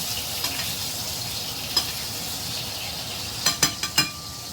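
Wagyu steak sears in a hot pan with a steady, close hiss, then several sharp clicks and clanks of a utensil against the pan near the end, with no talking.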